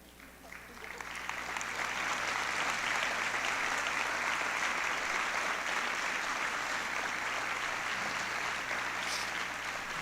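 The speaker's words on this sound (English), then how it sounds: "we'll give all of our top 10 another big round of applause" An audience at a high school class night applauds its top 10 students, sustained dense clapping that swells quickly and stays loud and even for the whole stretch.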